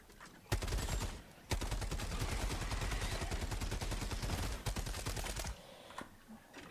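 Rapid video game gunfire, a loud burst of automatic shots firing in quick succession for several seconds, then a brief pause and a few scattered shots.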